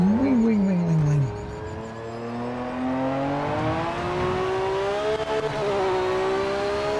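A race car engine in the Project Motor Racing video game revs loud and close, dropping pitch on a downshift, then climbing steadily as it pulls through the gears, with no talk over it.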